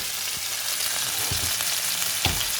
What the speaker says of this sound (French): je remue. C'est bien doré avec les oignons.